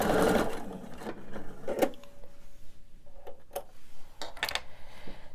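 Sewing machine stitching a candy dish pillow gives a short brisk whir at the start, then quiet clicks and soft handling sounds, faint and close.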